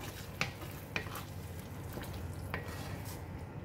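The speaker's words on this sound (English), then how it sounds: "Increase the temperature a bit and just give it a stir" Spicy sambal crab balls stirred in a hot pan, a steady sizzle under a few sharp scrapes and clinks of the utensil against the pan, close and moderately quiet, with no talking.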